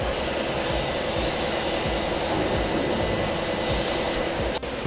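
Car detailing and paint correction on a Subaru SVX coupe at a car wash, with a polishing machine giving a steady, loud broadband whir throughout, close and continuous with no talk.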